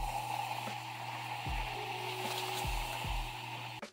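Hot piranha solution fizzing and sizzling steadily as a napkin dissolves in it, a constant bubbling hiss with a few low knocks and a sharp sound at the end, close up and with no talking.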